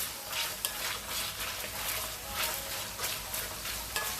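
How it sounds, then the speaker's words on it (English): Garlic cloves sautéing in a pan over medium heat, a close, steady sizzle with regular stirring and scraping sweeps running throughout. "I have my heat here on medium, and I give this a quick saute."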